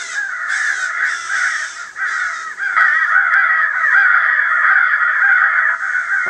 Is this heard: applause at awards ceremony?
no